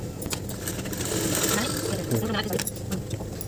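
Sewing machine stitching salwar kurta fabric, a rapid whirring, chattering run of stitches heard up close under a voice talking throughout.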